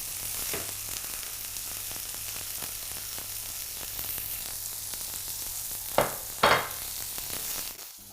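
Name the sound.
veal searing in a pan for saltimbocca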